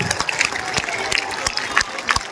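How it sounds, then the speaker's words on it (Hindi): An audience claps at a political speech: a dense, steady patter of many hands with sharper individual slaps standing out, fairly close and continuing for the whole stretch without a break. "जोर से बजाइए ताली।"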